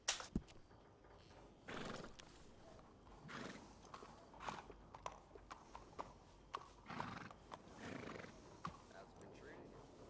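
A horse in the Red Dead Redemption 2 video game whinnies near the start, then hooves clip-clop in a loose walking rhythm with a few more snorts and neighs, fairly close and clear.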